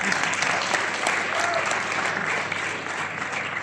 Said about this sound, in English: please clap for yourself also.